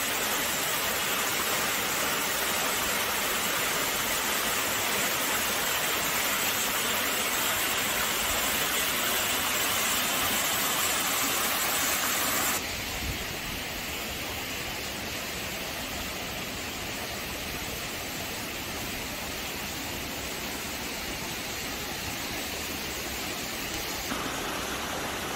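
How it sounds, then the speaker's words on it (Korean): Water rushes down Songchu Falls in a continuous, loud, broadband roar that holds steady throughout, softening slightly partway as the listening position shifts. "물소리 한번 들어보세요."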